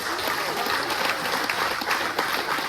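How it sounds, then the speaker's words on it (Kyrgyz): An audience claps steadily at an event where gifts are handed out, including an Umrah pilgrimage certificate, a car and a Swiss watch; dense, sustained applause from a sizable crowd, with no voices on top. "Көп кол чаап коюңуздар."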